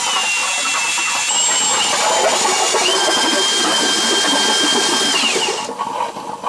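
A power drill whines steadily as it bores a hole through lake ice for ice fishing, a high grinding hum with scraping texture that cuts off abruptly near the end.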